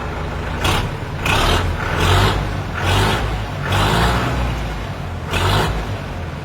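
A 2024 tractor engine running close by, its heavy diesel note rising and falling in a series of repeated revving surges, with no talking.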